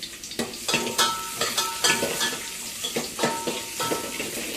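Onion drops into hot oil in a pot for a tempering while cooking crab curry, giving a loud close sizzle broken by rhythmic scraping stirs and clinks of a utensil against the pan, with no talking.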